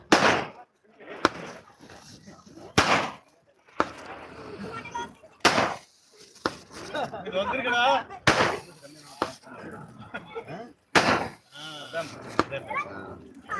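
Firecrackers burst during the Karthigai Deepam festival at Kadamalaiyar: a string of sharp, loud bangs at irregular intervals, with people talking and crowd noise in the gaps.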